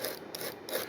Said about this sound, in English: Go ahead and scuff these up a little bit.